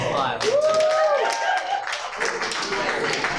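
Audience clapping at a live comedy show, scattered claps and cheers from the crowd mixed with talking and whooping voices, moderately loud and uneven throughout.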